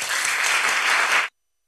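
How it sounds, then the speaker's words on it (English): Conference audience applauding the speakers at a climate and SDGs welcome ceremony: a dense, even round of clapping that fills the room for over a second, then cuts off abruptly. "please give the speakers yet another round of applause"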